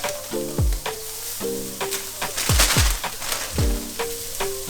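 Bagged vegetables sizzle hard in a pan over high heat, a steady loud crackle with bursts of spitting as they are stirred and tossed, low clunks of utensil on pan between.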